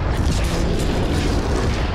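A detonated explosion in the video game Mafia 3 produces a loud, sustained, deep rumbling roar that fills the whole moment without a break.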